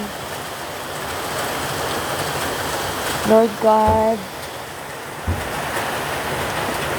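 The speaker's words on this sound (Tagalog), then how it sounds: "Sobrang lakas ng ulan." Very heavy rain pouring steadily as a dense, continuous hiss, with someone briefly speaking over it and a short low tonal sound midway.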